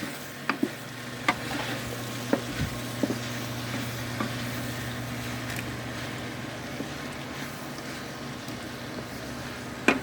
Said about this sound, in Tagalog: Halo-haloin na natin hanggang siya ay maluto, no?